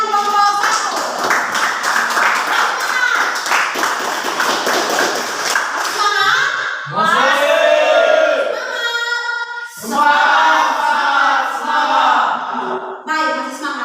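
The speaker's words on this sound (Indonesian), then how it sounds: "tepuk tangan untuk Lydia dengan kelompok 1" Classroom applause for a student group presenting discussion results, a dense patter of hand claps lasting several seconds with chatter and voices mixed in, fading briefly and then swelling again in a second burst.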